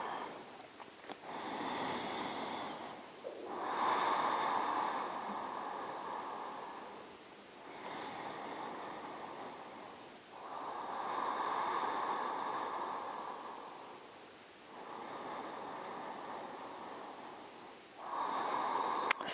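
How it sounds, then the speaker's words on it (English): Slow, deep breaths during a vinyasa yoga session, about four long airy inhale-exhale cycles, close and soft with faint nasal rasp and no talk. "Take 3 deep breaths."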